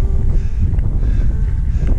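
Steady, loud crosswind buffeting the microphone on an open plain near Konya, Turkey, a continuous low roar with rustling gusts and no pauses.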